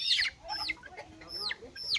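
A chicken clucks repeatedly in quick, sharp bursts, close and fairly loud, with light background noise and no clear talk.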